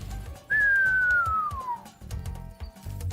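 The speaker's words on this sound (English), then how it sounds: "On the little whistle as the wizard fell into the void." A single smooth whistle slides steadily downward in pitch as the wizard falls into the void in the Spyro the Dragon video game, heard clearly over soft, rhythmic background music.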